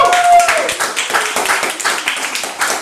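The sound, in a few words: audience applause at a Halloween event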